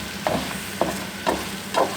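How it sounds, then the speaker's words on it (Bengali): Eggplant fries in a pan under a constant hiss of oil, while a spatula scrapes through it in four evenly spaced strokes about half a second apart. "আর একটু ভাজা ভাজা করবো আমি।"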